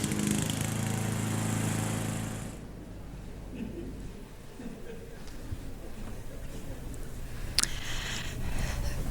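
Lawn mower running in a TV advert: a loud, steady engine drone for about two and a half seconds that cuts off abruptly, followed by quieter, muffled background sound.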